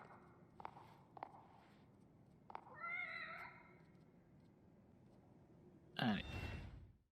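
Cat meowing in the horror video game The Evil Within: a few soft taps, then a drawn-out wavering meow, a pause, and a sharper louder meow near the end, all fairly close against a quiet background.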